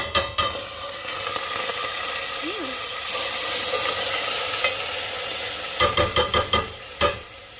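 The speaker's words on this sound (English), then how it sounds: "I put a little bit of oil in there, and I'm gonna put this coconut milk in here" Coconut milk hits hot oil in a pan with a steady sizzle and hiss, followed later by a run of sharp utensil clicks and scrapes against the pan.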